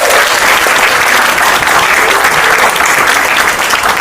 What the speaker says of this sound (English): Please give him one round of applause again.